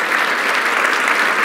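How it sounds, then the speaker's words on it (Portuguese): A live audience claps steadily and loudly at a Brazilian business event, a dense, even wash of applause with no pauses and no voices over it. "Eu quero uma salva de palmas para ele."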